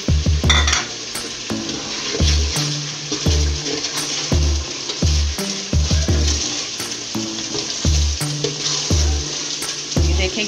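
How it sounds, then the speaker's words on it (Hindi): Chickpea and egg curry gravy sizzles and fries in oil in a pot, a steady loud crackle broken by regular scraping stirs and clinks of a spoon against the pan. "देखें ग्रेवी कितने अच्छे से पकने लग गई है और ऑयल भी ऊपर आने लग गया"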